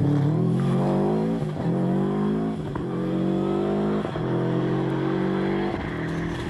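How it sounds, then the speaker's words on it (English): A Ford Escort rally car on a rally stage revs hard close by, climbing through gears in repeated loud surges with short dips at each shift, and no voices are heard. "And the overshooting Escort of Lyndon Barton and Johnny Vance completes a new look top six."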